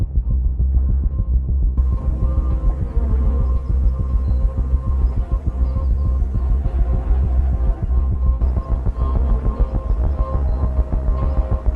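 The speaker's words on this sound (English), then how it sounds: "the flies buzzing around, but you can hear the birds in the background" A steady, throbbing low buzz of flies fills the scene, with faint bird calls twittering far off in the background.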